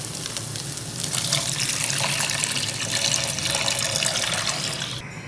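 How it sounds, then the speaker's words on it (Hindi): Water poured into a kadai while cooking fish pulao, a steady continuous gush splashing into the pan from start to finish, close and moderately loud, with no speech. "अब इसी कढ़ाई में 1 किलो पानी ऐड करें।"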